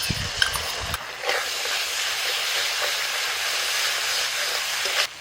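Spice masala with yogurt sautés in a pan with a loud, steady sizzling hiss. A few utensil clinks come at the start, and a brief stirring scrape shows up near the end.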